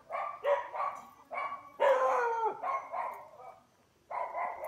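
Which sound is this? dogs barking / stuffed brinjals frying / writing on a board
dogs barking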